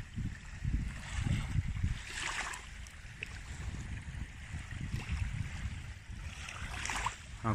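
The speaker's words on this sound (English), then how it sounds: "Listen to the sound of the ocean." Ocean waves wash onto a beach with low, rolling surges that swell and recede, and wind noise is mixed in, steady and moderately loud throughout with no talking.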